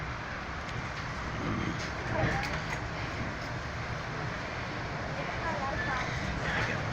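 A Metra BNSF commuter train rolls into the Union Station tunnel in Chicago, with a steady, dense rumble and roar heard from on board, continuous and unbroken.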